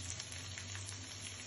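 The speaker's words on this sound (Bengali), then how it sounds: "এখন দিব ফুলকপি, সব সবজি তেলে ভেজে নিব।" Cauliflower, potato and carrot frying in hot oil for navratan biryani, a steady, soft sizzle and bubbling hiss with faint crackles throughout, heard alone.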